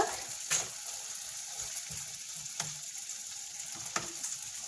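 Potatoes frying in a pan, a steady soft sizzle with occasional sharp pops and stirring scrapes at a moderate distance.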